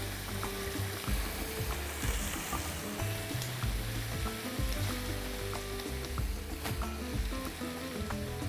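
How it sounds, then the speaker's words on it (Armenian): Cauliflower and mushroom fry in a pan with a steady, dense sizzle and crackle that runs loud and unbroken throughout, with faint stirring clinks and no talking. "լցնում ենք տապակի մեջ։"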